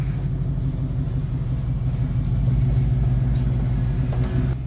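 A 1988 Toyota Land Cruiser FJ62 fitted with a 5.3 Vortec V8 and 6L80E automatic idles steadily nearby, giving a continuous low rumble with no talk.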